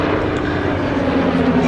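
Team Raven display aircraft arriving at the Duxford Battle of Britain air show, a loud, sustained droning engine roar holding steady as the planes fly in.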